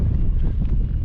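Wind gusts across a microphone beside a mountain lake, a low, steady rumbling buffet that stays loud for the whole second with no other sounds.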